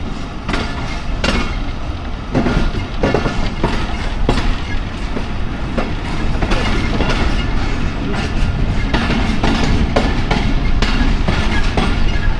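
Thall Express train pulling out of the vintage Pai Khel station, a steady loud rumble of wheels and carriages with repeated clickety-clack beats running throughout, no voices.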